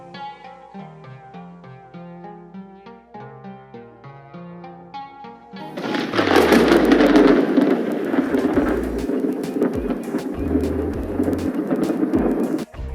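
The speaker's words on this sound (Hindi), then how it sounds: "Distant thunder and heavy thunder." Heavy thunder sound effect from a rain and thunder library erupts after a stretch of musical tones, a loud rumbling crash with rolling booms and crackles that lingers and slowly decays.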